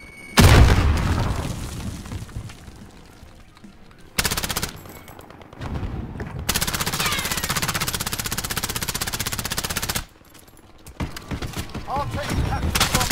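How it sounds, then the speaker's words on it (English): Call of Duty Warzone gameplay with a frag grenade explosion and bursts of gunfire, a loud boom up front followed by rapid rattling fire in several segments with abrupt cuts between them. "Throwing frag grenade."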